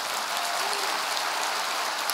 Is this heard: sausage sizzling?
no